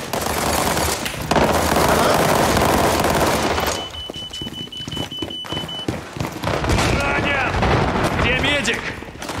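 A grenade explosion and gunfire in the shooter video game World War 3: a dense, loud roar of rapid automatic fire and a blast, then a quieter stretch with a thin steady tone, then more scattered shots, with voices shouting in between.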